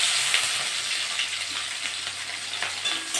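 Onions sizzling and frying in a pan while making a Bengali taro-leaf (kochu shak) dish; a steady, close crackling hiss runs throughout with no talking.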